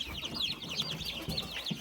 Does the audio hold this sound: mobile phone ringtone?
no